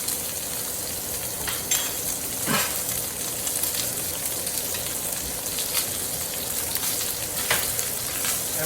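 Butter and garlic sizzle steadily in a hot pan beside a steak, a dense continuous crackle with occasional brighter pops and spatters, close and fairly loud, with no talking.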